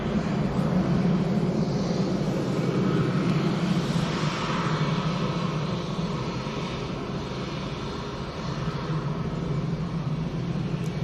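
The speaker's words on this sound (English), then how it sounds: "it's our Dreamliner. What a treat." Boeing 787 Dreamliner at Manchester Airport, a steady broad engine roar and rumble holding loud and continuous throughout, with no pause or break.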